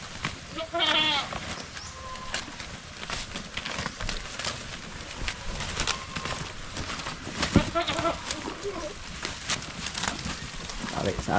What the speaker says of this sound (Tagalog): Kainan po sa ating mga kambing dito.